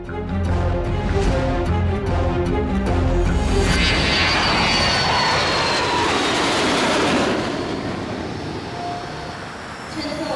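An airplane at an airport roars loudly, its engine rumble swelling into a broad rushing whoosh as it passes, then gradually fading away with a trailing hiss.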